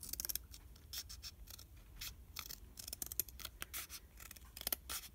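Scissors snip repeatedly through a paper strip for a handmade journal clip, a quick, uneven run of close, crisp cuts over a quiet room.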